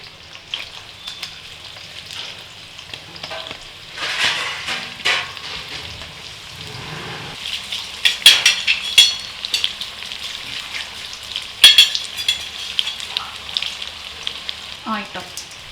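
Cashews and large onions sizzle in hot ghee for birista, a steady bright frying hiss with crackling bursts and pops that swell and fade, close and loud with no talk.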